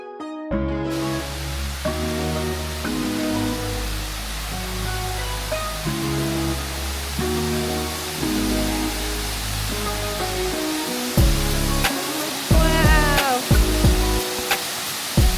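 Waterfall on the Atherton Tableland roars as a constant broadband rush of falling water. Music plays over it throughout, with a few brief sharp sounds near the end.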